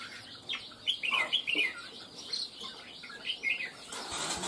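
Caged red-whiskered bulbuls chirping, a scatter of short bright calls in quick bursts, moderately close, over a faint background hum with no talking.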